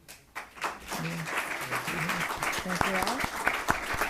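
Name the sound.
audience applause at a candidate forum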